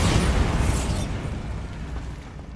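A deep rumbling blast from the Bombarda explosion spell in the Hogwarts Legacy video game, loud at first and then rolling off into a fading, debris-filled roar.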